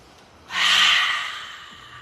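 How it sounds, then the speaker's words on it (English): One long, deep breath drawn in close to the microphone, an airy rushing inhale that swells quickly and then slowly fades, with no talk over it. "Come all the way in and take another big breath."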